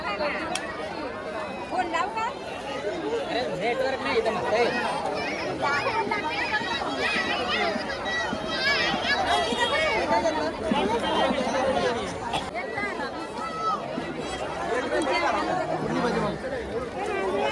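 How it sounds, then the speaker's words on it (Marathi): Dense crowd chatter at the Mhasa Jatra fair, a busy babble of many voices, some of them children, close and continuous with no break. "गर्दी बघ"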